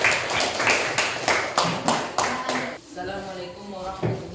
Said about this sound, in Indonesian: Ya, tepuk tangan dulu kelompok 1.